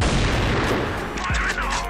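Machine-gun fire in the zombie mode of the CrossFire Legend video game, a dense burst of rapid shots and booms up close that thins out toward the end.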